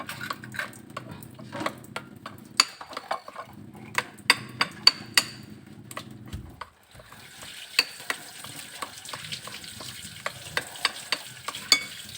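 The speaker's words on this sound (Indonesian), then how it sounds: "Nah, diaduk terus." Thick batter for vegetable-stuffed tofu is stirred in a bowl, giving soft scraping swishes punctuated by sharp clicks of the utensil against the bowl, close and continuous with a brief pause midway.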